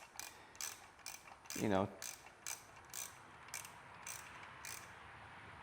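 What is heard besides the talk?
torquing bolts on a Yamaha WR250R motorcycle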